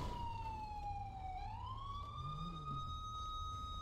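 A highway patrol Crown Victoria police car siren in a video game wails continuously, its pitch dipping and rising in a slow sweep over a low engine rumble, loud and close.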